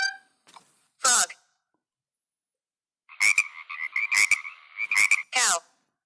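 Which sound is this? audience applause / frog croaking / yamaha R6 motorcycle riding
frog croaking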